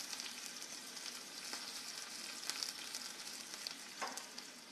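Onions and garlic fry in oil over lowered gas for a tomato chutney tadka, giving a steady, close, bright sizzle with faint crackles and small pops throughout, no voices.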